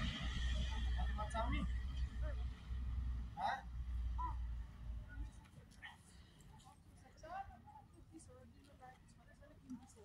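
A horse whinnies loudly several times near a Tihar fair ride, the calls rising over constant crowd chatter and voices before fading to quieter background talk.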